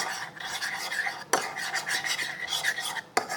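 Slime mixture being stirred as it starts to clump, a steady wet scraping and swishing with a couple of sharp knocks of the utensil against the container, close up and alone.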